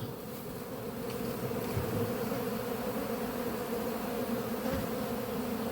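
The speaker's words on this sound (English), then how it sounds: "There are all these bees on the floor here." A dense swarm of honey bees buzzes around a hive at an apiary after a drone-layer shake-out, a thick, steady drone filling the air with no voices.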